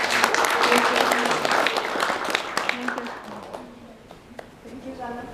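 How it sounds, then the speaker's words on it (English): Scattered audience clapping fills a Toastmasters club meeting room, moderate and steady with a voice speaking over it and the applause thinning toward the end. "Let's give huge applause."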